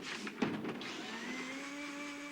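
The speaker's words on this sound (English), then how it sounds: "He's got the blender." Steady whirring motor drone with a rising whine, a brief clatter near the start, then a continuous high-pitched hum.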